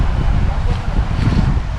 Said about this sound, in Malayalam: നല്ല കാറ്റും ഇളം കാറ്റ്, തണുത്ത കാറ്റും